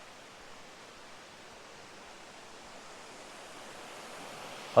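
A waterfall at the Dhutpapeshwar temple in Konkan flows without pause, making a steady, broad rushing roar that holds even throughout.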